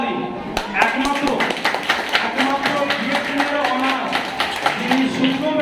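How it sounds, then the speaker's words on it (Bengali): An audience at a DXN program in Bhutni, Malda, West Bengal breaks into loud, brisk applause, with many sharp claps rattling unevenly and continuing throughout. "জোরদার তালি।"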